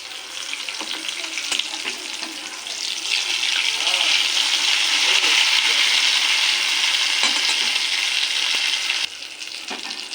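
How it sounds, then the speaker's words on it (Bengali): Stuffed ash gourd pieces frying slowly in hot oil in a pan, a steady continuous sizzle that swells and stays loud throughout, with a few faint utensil taps and no talking. "একটু আস্তে আস্তে ভাজতে হবে লাল লাল করে ভাজা হলে নামিনালে"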